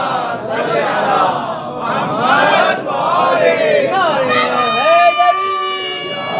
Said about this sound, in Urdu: ایک دفعہ صلوات پھر بلند آواز سے پڑھ دیں